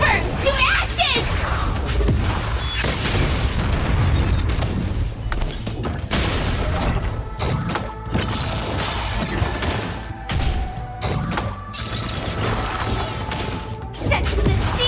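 Firefly's detonation in Honkai: Star Rail erupts as a sustained roar of crashing blasts and whooshes, loud and dense throughout, with game music and effects layered underneath.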